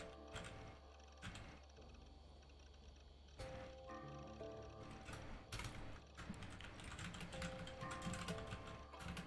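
Typing on a computer keyboard during an Assassin's Creed Valhalla session, quiet irregular key clicks in bursts under game background sounds.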